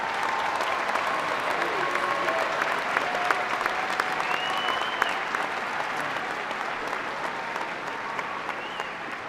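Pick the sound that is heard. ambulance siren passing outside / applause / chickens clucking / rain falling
applause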